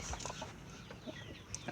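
A fighting rooster gives soft clucks in quick, low bursts close by over a quiet background.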